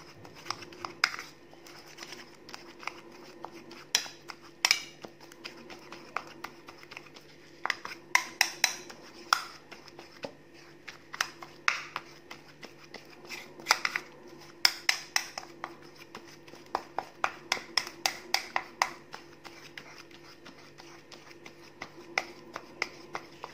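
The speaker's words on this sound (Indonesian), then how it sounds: "Lalu diaduk sampai tercampur rata." Olive oil mixture being stirred in a bowl for a homemade face treatment, heard as a steady run of close utensil clinks and taps against the bowl, fairly loud and irregular, with no speech over it.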